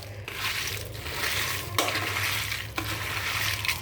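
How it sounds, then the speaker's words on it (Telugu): Red chillies fry and sizzle in a pan while being stirred, a steady close crackle with scraping stir strokes breaking through several times; no voices. "చూసారా ఎంత బాగా వేగినాయో."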